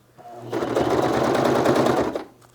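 Close and loud, a sewing machine stitches stretch fabric for a front pocket, a motor hum building into a rapid, even run of needle strokes lasting about two seconds before winding down.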